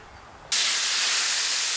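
Onions hit hot oil in a kazan and start frying, a sudden loud, steady sizzling hiss that begins after a short quiet moment and keeps going.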